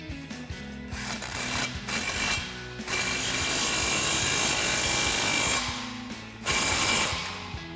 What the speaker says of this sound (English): grab our impact and 15mm socket and tighten down our clamp